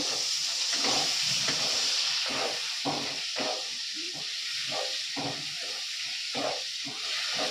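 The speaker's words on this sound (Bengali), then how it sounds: "তো টমেটোটা দিয়ে দিলাম তেলের উপরে" Tomatoes dropped into hot oil fry with a steady, loud hiss and sizzle throughout, with faint clinks and stirring taps in the pan.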